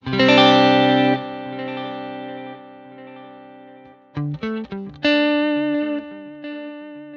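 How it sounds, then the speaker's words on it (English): An electric guitar through stereo cabs plays a chord, then short picked notes bounce left to right through a stereo ping-pong delay, repeats fading under each new phrase. "So you hear the ping pong from left to right."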